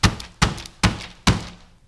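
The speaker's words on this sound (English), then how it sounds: "Just bang it a little bit." An acrylic pour painting banged on a table, four evenly spaced hollow thunks, loud and close, each dying away quickly.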